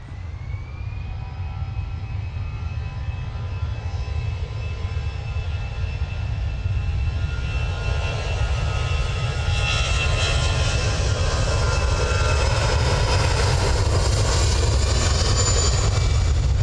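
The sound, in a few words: EasyJet airliner departing for Malaga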